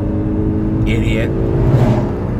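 A big vehicle rumbles past close by on the road in a short, steady roar, while a voice talks over it.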